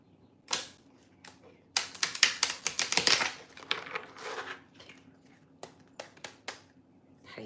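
Tarot cards are shuffled in a tabletop reading, giving a burst of rapid riffling clicks and flutters, then scattered taps and soft slaps as the deck is handled, close and fairly quiet.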